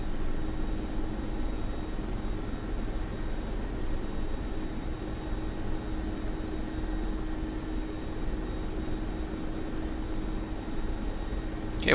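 A Mi-24P Hind attack helicopter hovering in the DCS flight simulator gives off a steady, droning rotor and turbine roar with a constant hum, unbroken and even throughout.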